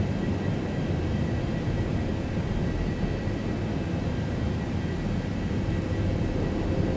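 A Boeing 737-800 climbing out after takeoff in X-Plane 11 gives off a steady, dense roar of engine and wind noise that holds even and unbroken throughout.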